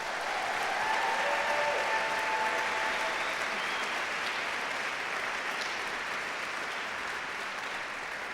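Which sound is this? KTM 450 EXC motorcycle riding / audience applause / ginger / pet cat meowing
audience applause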